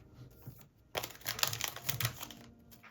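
A Minecraft-themed surprise packet being torn and opened by hand, a burst of close, sharp plastic crinkling and rustling that starts after a quiet moment and carries on for about two seconds.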